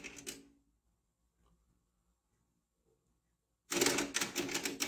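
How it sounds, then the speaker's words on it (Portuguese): Pioneer CT-W505R tape deck mechanism running its tape calibration and rewind: a brief mechanical clatter at the start, near-silence, then a loud, dense whirring and chattering burst for the last second. "Vai voltar a fita no ponto onde estava."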